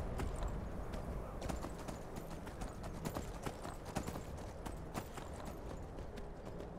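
A horse trots along in the video game Skyrim, its hooves clip-clopping in a quick, steady rhythm, quiet and fairly close, against a soft background wash.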